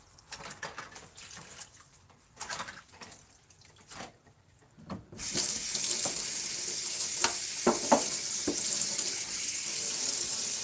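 Tap water runs steadily into a kitchen sink while dishes are washed, a loud continuous hiss starting halfway through, preceded by clinks and soft handling sounds.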